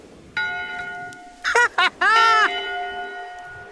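A ship's bell rings in Return to Monkey Island: one sustained metallic tone, then quick clanging strikes and a final ringing peal that fades out, loud and close.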